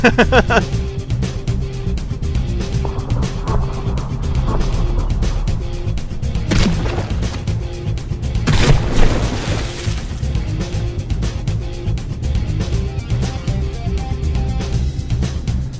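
Battleship shells firing and exploding in the naval combat game From The Depths, a dense rumbling barrage with sharp blasts near the middle, heard under steady low game noise.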